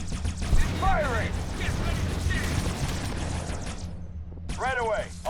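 Sustained rattling gunfire from units in the real-time strategy video game Halo Wars, a dense broadband crackle across the whole clip, with short game voice acknowledgements and unit chatter over it.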